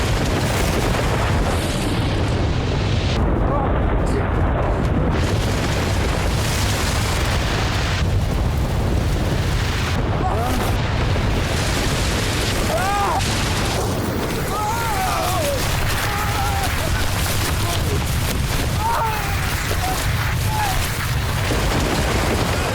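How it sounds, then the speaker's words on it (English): On Mount Johnson, Alaska, a loud, continuous roaring rumble with deep booming and cracking bursts throughout, sustained and heavy without pause. "There's a sickening, cracking rumble, explosions, boom."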